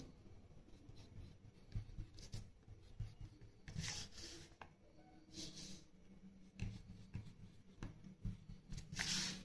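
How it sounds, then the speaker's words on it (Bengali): A pen or marker taps and strokes out dotted lines on a board during a physics lesson, faint and close, coming in short irregular bursts of scratchy rubbing with no talk. "আমি এখান থেকে কিছু ডট ডট টেনে দিচ্ছি"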